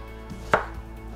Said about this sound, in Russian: Соломкой нарезаю свежий огурчик.